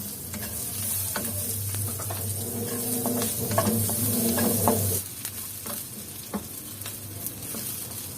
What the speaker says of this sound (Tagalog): Igisa ang sibuyas hanggang sa lumambat.